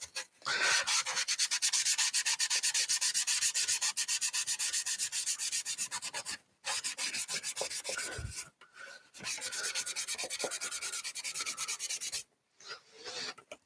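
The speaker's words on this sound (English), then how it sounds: "see how we're scuffing it up and bringing it up on the corners?" Painted shoulder armor is scuffed by hand to wear through the paint at the corners for a weathered look, making close, repeated rasping rubbing strokes in long bursts with a few short pauses and no voices.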